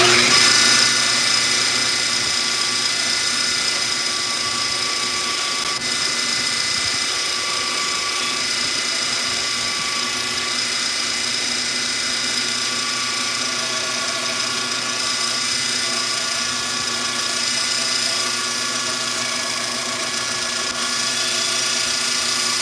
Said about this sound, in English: That is my grandfather's bandsaw.